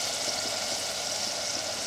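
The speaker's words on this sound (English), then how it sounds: "And now we're just going to fry that off." Onions and palm sugar frying in a pan for a satay peanut sauce, giving a steady, even sizzle that holds at a moderate level with no voices over it.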